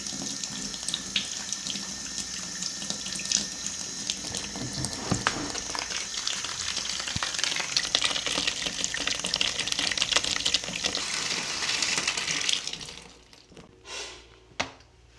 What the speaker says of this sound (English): you just kind of chill and fill up your tub